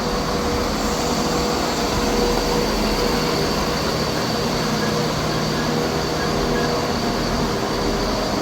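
A ScotRail Class 170 diesel unit departs Dalmeny station on the Leven to Edinburgh Waverley service, a steady, broad rumble of engine and rolling wheels with a faint tonal whine, constant and fairly loud throughout.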